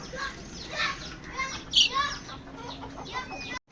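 Hens clucking softly in a poultry shed at evening, birds recovering from coryza, with scattered near and far calls overlapping in a steady, busy murmur.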